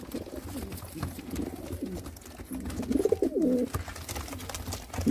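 Racing pigeons coo repeatedly near at hand, low rolling burbles rising and falling in several runs, the loudest around the middle, over a constant background hum and without speech.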